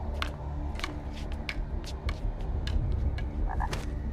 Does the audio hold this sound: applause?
no